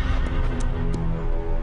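A cartoon horse, a huge mustang, lets out a bright, strained whinny that fills the moment, loud and close over a dense layer of music and ambience with no talking.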